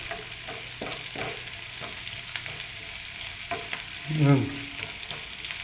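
Garlic sautéing with oyster sauce in a pan, a steady frying sizzle with scraping stirs and a brief louder scrape near the end; a voice speaks one short word.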